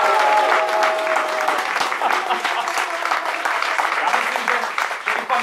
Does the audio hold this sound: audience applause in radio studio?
yes